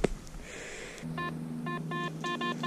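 A metal detector sounds over buried iron, giving a run of short, repeated electronic beeps, bright and close, above a steady low drone.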